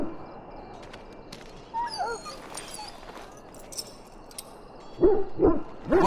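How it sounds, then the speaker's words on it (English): A hurt dog in a Dragon Age fantasy game whimpers and yips in a few short, thin high cries, then gives louder whining yelps near the end over a soft ambient bed. "Now I can treat the dog properly, poor fella."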